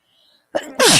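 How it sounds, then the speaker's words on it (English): A single loud sneeze bursts out after a brief quiet intake of breath, close and sharp. "I'm about to sneeze, y'all."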